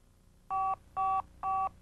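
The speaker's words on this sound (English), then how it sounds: "Pressing send or the smart button will automatically redial the number for up to 4 minutes." Motorola StarTAC cellular phone sounding three short, evenly spaced redial tones, clear and moderately loud over a quiet background.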